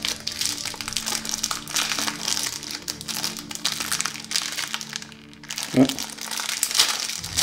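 Plastic shrink-wrap crinkling and crumpling near the mic as a Sleeping Gods board game expansion box is unwrapped, steady rustling throughout with a brief voice and a sharp thump near the end.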